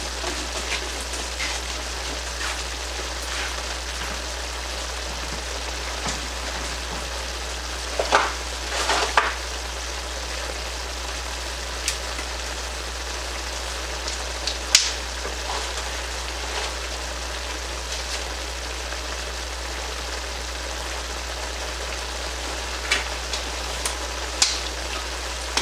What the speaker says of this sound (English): And we'll let that simmer a little bit.